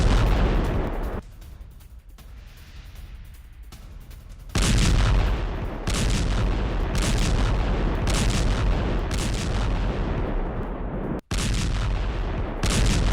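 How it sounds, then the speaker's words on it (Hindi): Ukrainian cluster bomb strike on a Russian frontline near Robotyne in Zaporizhzhia, with loud rolling booms and dense overlapping blasts that roar on continuously before cutting off abruptly. "रूस पर यूक्रेन का क्लस्टर बम से हमला।"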